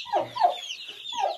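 Chickens cluck in a coop with straw bedding on the floor, a few short close clucks and soft calls in quick succession, with no voices.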